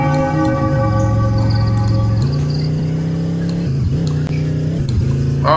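Car driving in the video game Dude Theft Wars, a steady engine drone with clear harmonic tones that shifts pitch a few times, loud and continuous with no talking.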